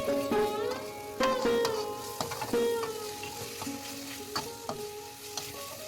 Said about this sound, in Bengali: এবার আমি মশলার মধ্যে মুগ ডালটা কিছুক্ষণ কষিয়ে নিচ্ছি